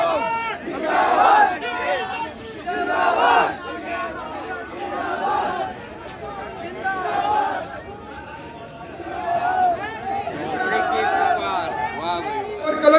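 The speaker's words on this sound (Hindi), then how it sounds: "देखिए, भीड़ है जो काफिला देखकर आप अंदाज़ा लगा सकते हैं।" A large crowd at a political protest rally in Churu, Rajasthan waits for a leader's convoy to arrive: dense chatter and shouting voices swell and fade steadily throughout, loud and close.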